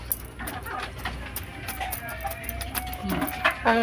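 Chickens, hens and a rooster, moving in a large coop, clucking and calling close by in short uneven bursts over a steady low background rumble.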